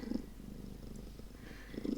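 A pet cat curled up in a box on a landing purrs softly and steadily close by, a low continuous rumble that swells slightly at the start and end.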